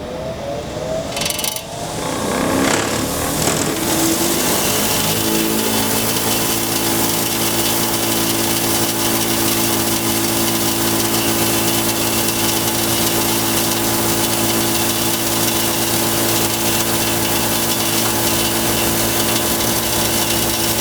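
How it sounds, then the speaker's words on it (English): A grinder used to sharpen a tungsten electrode for a Miller TIG welder spins up over a couple of seconds, then holds a loud, steady mechanical whine with a humming drone for the rest of the stretch. "Let's go ahead and turn on our grinder."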